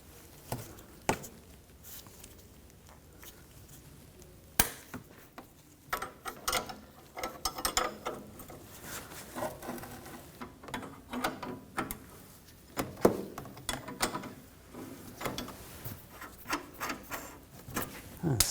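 A ratchet wrench loosens the front sway bar link nut on a 2010-2014 Volkswagen GTI, giving quiet irregular clicking and scraping mechanical rattles up close, with occasional sharper knocks and no clear talk.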